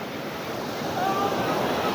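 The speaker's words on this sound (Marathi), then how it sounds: "मोठी लाट आली की सुट्टी नाही" Sea surf at the shore, a steady broadband wash of waves with wind noise on the microphone, swelling slightly midway as a larger wave rolls in, with no speech.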